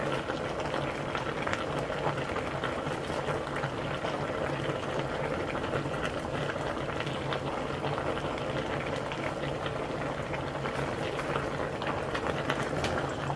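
A pot of vegetable and tomato potage with eggs simmers, giving a soft, continuous bubbling and sizzling that stays faint and even throughout.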